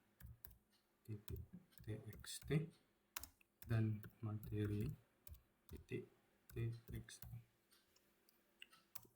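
Rapid bursts of clicking keystrokes on a computer keyboard as Linux commands are typed in an Ubuntu terminal, with a person talking over the typing.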